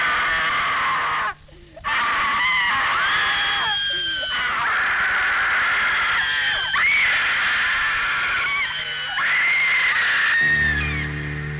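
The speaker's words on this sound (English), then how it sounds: "you may obtain immediate relief by screaming" A cinema audience watching a horror film screams long and loud, one continuous wall of shrieks, wails and rising cries with short dips, over a steady background buzz.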